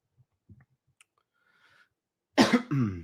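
Loud harsh coughing fit from a person close by in a quiet court livestream setting, a few faint clicks and small noises first, then two strong bursts of coughs near the end.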